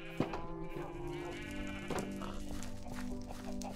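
Sheep bleating in the Minecraft video game, wavering tonal bleats repeating over a steady background, moderately loud with no speech over them.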